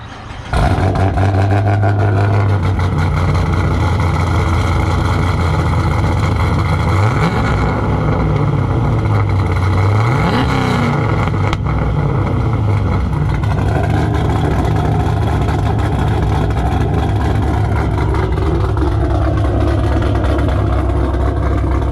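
A Cadillac CTS-V V8 with an aggressive cam fires and settles into a loud, lumpy idle close by, with a couple of blips of the throttle rising and falling midway before it steadies again.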